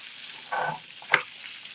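Beef short ribs sear in a pan that is not yet very hot, a soft steady sizzle with a brief rustle and one sharp clack as a piece is turned.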